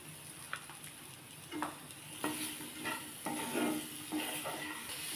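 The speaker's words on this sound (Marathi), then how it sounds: "चांगलं परतून घेऊया" Raw mango and fenugreek mixture being stir-fried in a pan with jaggery and salt, a steady soft sizzle broken by repeated scraping strokes of a spatula, close and alone with no voices.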